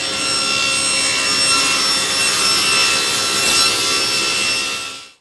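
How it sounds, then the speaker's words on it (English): A saw rips scrap plywood to width in a workshop, a loud continuous rasping cut that runs steadily for about five seconds before winding down abruptly at the end, with no voices. "that's all I'm doing now is just ripping scrap to size"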